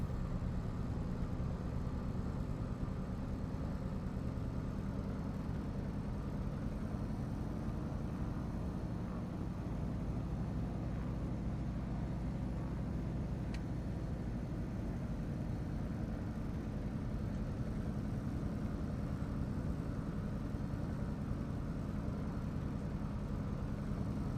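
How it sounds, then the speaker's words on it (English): In a flight simulator, a Cessna 195 Businessliner's radial engine idles while the plane taxis. A faint, steady low rumble continues without a break, and no one speaks. "Just listen to that engine purr."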